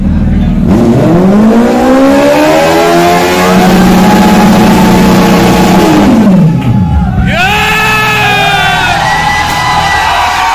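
A white Suzuki Hayabusa motorcycle engine revs loudly nearby, climbing and falling in pitch, then cutting out before another quick rising rev, with voices of a gathered crowd in the background.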